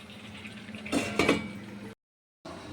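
A lid goes onto a cooking pot of braising curry, making two quick, faint metallic clinks and a short scrape over a soft background hum, followed by a brief silence.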